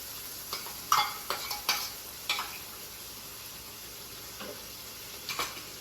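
Separately ground onion and tomato paste goes into a frying pan over a low flame, making a faint hiss with scattered spoon taps and scrapes against the pan.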